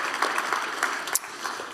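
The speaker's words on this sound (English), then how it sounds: "how about a big round of applause and appreciation for our fathers that are in the room." A church congregation applauds fathers during a service, a soft, steady patter of many hands clapping, heard from some distance across the room for a couple of seconds.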